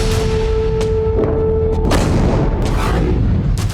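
Several heavy booms and thuds of explosions from drone and missile attacks on Kyiv sound at a distance, one after another, over a constant low rumble and a steady tone early on.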